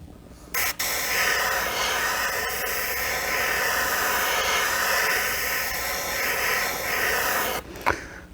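Steady airbrush hiss, close and continuous, starting and stopping abruptly with brief clicks at each end.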